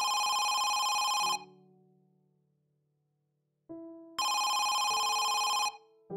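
A phone rings in the horror video game Home Sweet Home, two loud bursts of electronic ringing separated by a few seconds of near silence with a faint lingering tone.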